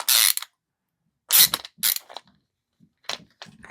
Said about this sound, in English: These are funny screws. They come out like really fast.